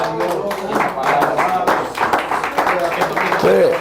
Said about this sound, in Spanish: Dele palmas al Señor, hermanos.